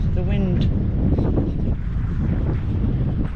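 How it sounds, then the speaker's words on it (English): Strong wind gusts at a beach buffet the microphone, giving a loud, continuous roar with a faint voice underneath. "where we live is quite windy"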